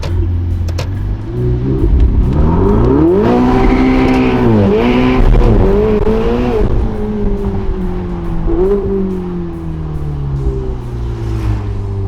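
A Ferrari 12Cilindri's engine revs hard under acceleration, loud and close, the pitch climbing and falling through gear changes in a continuous roar with no talk over it.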